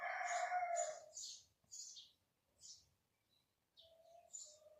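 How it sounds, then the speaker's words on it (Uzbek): A rooster crows once at the start, fairly faint, followed by scattered bird chirps in short bursts separated by near silence. "Kanalga video olayotgandim degan gapni tushunmaydi xo'roz."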